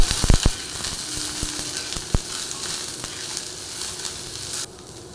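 Food fries on low heat in a pan with a soft, even sizzle throughout, punctuated by a few sharp utensil clicks near the start and a stray knock midway before the sizzle drops off at the end.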